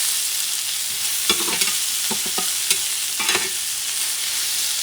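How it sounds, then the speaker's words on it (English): Onions sautéing in a pan for steak and onions, a steady loud sizzle with several short clattering bursts of stirring utensil scrapes against the pan, no talking. "bring your onions and saute those onions"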